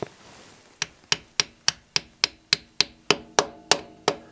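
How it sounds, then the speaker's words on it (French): A 16 mm socket is tapped with a hammer to seat a valve stem seal on an engine cylinder head, done without removing the head. About twelve sharp metallic taps come close and evenly spaced, each one slightly louder than the last. "je trouve qu'une douille de 16, ça va bien dessus. On tapote."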